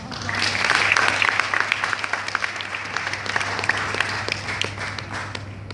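Audience applause after a Hindi poem recitation at a college event, a dense wave of clapping that rises quickly and slowly fades, with no talking over it.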